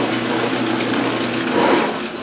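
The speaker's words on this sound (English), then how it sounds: "it takes a really long time for my saw to cut off a 3-inch piece of stainless steel" A saw grinds steadily through a 3-inch piece of stainless steel, a loud continuous buzzing whine with a slight swell near the end.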